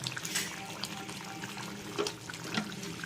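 Ground fresh coconut paste pours steadily into a fish curry with soft splashing and trickling for a few seconds, no voices.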